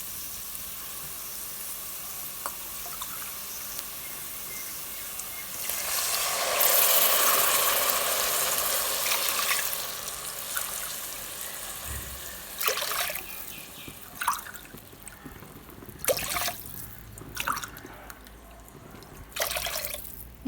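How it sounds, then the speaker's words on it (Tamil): Water pours in a rushing burst for a few seconds into a pot of rice for ghee rice, followed by scattered clinks and knocks of the pot and utensils, close by and with no talking. "அதனால் மொத்தம் 5 டம்ளர் தண்ணி ஊற்றுறேன்."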